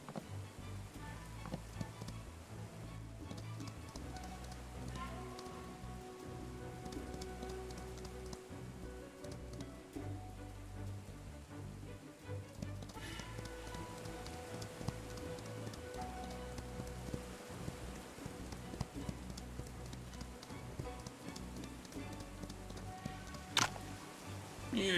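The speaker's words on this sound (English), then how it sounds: "It'll be rainy for days, and the wind will be too strong." Steady rainfall in the video game Wandering Sword, a continuous patter of drops on surfaces across the whole stretch with a sustained musical drone underneath and no talk.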